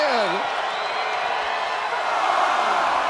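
An arena crowd in the WWE 2K25 video game roars and cheers in a broad, sustained wash of noise, loud and continuous, with a whoop rising near the start.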